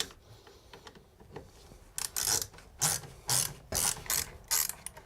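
A wrench ratchets as it tightens toilet flange bolts: after a quiet start, about five close, sharp clicking bursts come in quick succession.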